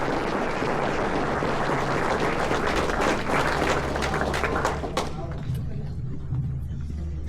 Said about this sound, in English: let's give a round of applause for Lisa